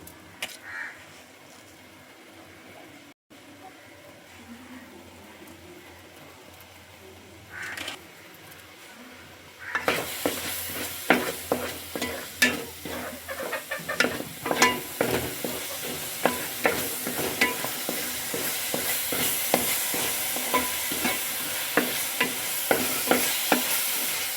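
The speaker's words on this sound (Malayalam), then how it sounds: "മുളക് പൊടി മല്ലിപ്പൊടി ഇതിൻ്റെയൊക്കെ ഒരു പച്ചമണം മാറുന്നത് വരെ നല്ലപോലെ ഒന്ന് വഴറ്റി സെറ്റാക്കി എടുക്കാമേ" Chilli powder and coriander powder masala is sautéed for cooker chicken. After a quiet stretch, a spoon begins to scrape briskly and steadily through the sizzling pan, with faint crow caws in the background.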